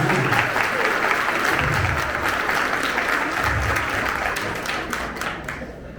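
A room full of people gives a dense, sustained round of applause, loud and close, that holds steady and then starts to thin out near the end.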